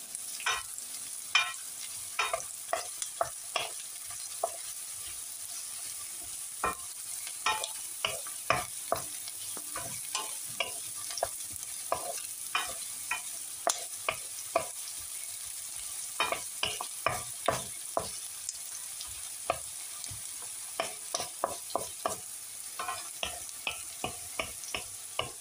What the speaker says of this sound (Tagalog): So, lutuin na natin ang sibuyas.